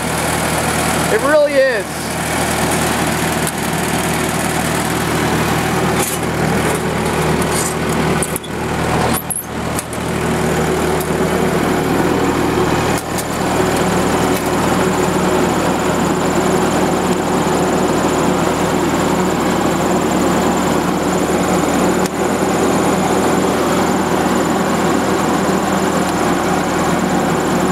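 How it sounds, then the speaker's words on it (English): A WWII anti-aircraft gun generator motor with a water pump and grease cup runs steadily at a smooth, even idle, close and continuous beneath a voice. "It's a very, very, very smooth running motor."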